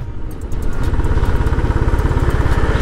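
A motorcycle on a ride from Gangtok that suddenly loses power while the throttle is opened runs with a loud, close, steady pulsing engine note that never climbs, with no speech over it.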